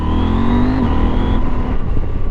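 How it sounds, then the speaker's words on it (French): A 2019 KTM 790 Adventure twin-cylinder engine drones loudly up close, its pitch climbing and then dropping as the throttle changes, under steady wind noise. "Il est incroyable ce petit moteur"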